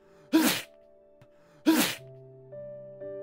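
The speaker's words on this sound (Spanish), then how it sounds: "Estornudó" Two loud, abrupt sneeze sound effects in a Spanish Pinocchio audiobook, each a sharp burst about a second apart, set over soft sustained background music notes.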